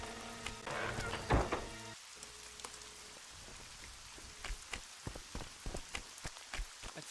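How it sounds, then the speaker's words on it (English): Rain in The Witcher 2, a soft patter of drops on surfaces with scattered sharper ticks, after a brief louder burst of game sound at the start. "It's raining."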